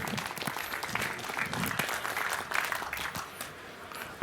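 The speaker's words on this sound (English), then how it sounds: "I would like to hear a warm round of applause for Reticulum, Unstoppable Networks for the People" A conference hall audience gives warm, continuous applause for a talk on Reticulum decentralized networking at the Chaos Communication Congress, a dense, even wash of clapping with some scattered louder nearby claps.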